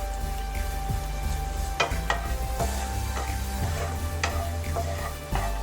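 Cinnamon and cloves frying in about two spoonfuls of hot ghee with crushed cardamom give a steady close sizzle, broken by repeated scraping taps of a spoon stirring the pan.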